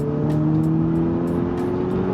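An Audi S3 facelift accelerates hard, its engine note a steady, strong drone climbing slowly in pitch, close and continuous with faint clicks over the top.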